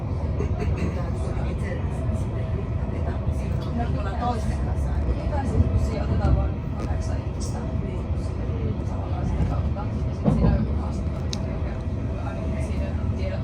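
Interior of a train riding toward Espoo, Finland: a steady low rumble and rolling hum fills the cabin, with faint background chatter and occasional soft clunks from the carriage.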